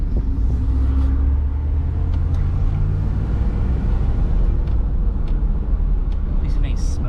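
An OBS Blazer that had been sitting for a while, driven with its engine running: a steady low rumble and road noise inside the cab, with a voice talking over it.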